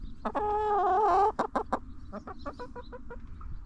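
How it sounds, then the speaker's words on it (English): A hen clucks close by on a homestead under renovation in rural Ireland, one drawn-out call followed by a run of short, sharp clucks. "What do you want, Mrs. Chicken?"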